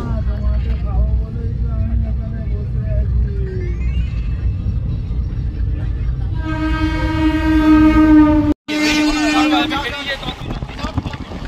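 A moving train on the way to the Maha Kumbh, heard from inside the carriage: a constant loud rumble, with a long, near horn blast and a brief cutout, while people talk over it.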